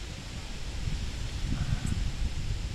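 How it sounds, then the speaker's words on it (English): Wind gusting through a tree as a storm rolls in, a steady, close rush of air with low rumbling buffeting of the microphone and light leaf rustle throughout. "We got some wind moving around."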